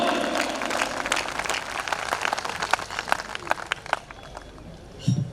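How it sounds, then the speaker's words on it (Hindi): An audience at a Hindi comedy poetry show claps with both hands raised, and the applause thins out toward the end. A murmur of voices sits underneath. "एक बार पूरा सदन दोनों हाथ ऊपर उठाकर ताली बजाकर आवाज दे"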